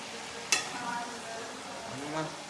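Food frying and sizzling in a pan, a steady crackling hiss with a sharp clink near the start and soft stirring scrapes.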